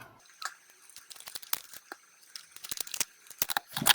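Scissors snip and trim bits of soft material for a homemade stamp cleaner, giving a string of irregular close crisp cuts and crinkles in a quiet room.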